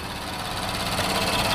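A 2017 Infiniti Q60S 3.0t Premium idles with a steady, smooth, fairly quiet hum through its dual exhaust with polished tips, close by, with no talk.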